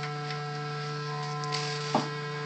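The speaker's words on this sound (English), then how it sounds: "there's the source, the square wave" A synthesizer circuit gives off a steady buzzing square-wave tone at one constant pitch. It is fairly quiet and sits alone, with a brief soft click near the end.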